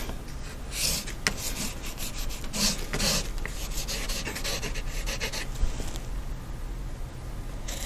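Paint being rubbed and worked into a painting surface by hand for a grayscale painting: a steady, close, dry scrubbing and rasping texture with a few brighter strokes, continuous throughout with no talk.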